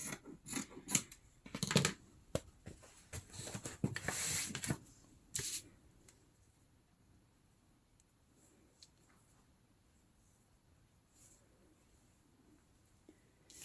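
Scissors snip through a piece of cheesecloth in a burst of close, crisp cuts over the first five seconds, followed by quiet handling and faint rustles.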